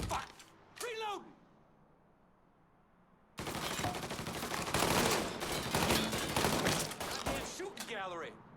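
Mafia 3 gunfight with a burst of rapid gunfire breaking out after a quieter stretch, sustained loud shooting under shouted voices.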